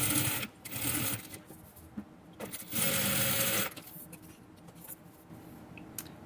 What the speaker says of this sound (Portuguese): E vou passar uma costura aqui, em cima da linha da tela.